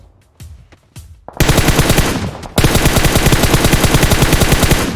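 Gunfire in the mobile battle royale game PUBG Mobile: a few sparse single shots, then loud sustained rapid automatic bursts filling most of the clip, with no speech over them.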